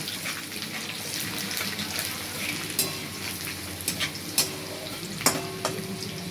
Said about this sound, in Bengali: তারপরে একটু ভাজলে দেব রসুনের কিমাটা, দিয়ে একটু নেড়ে নেব।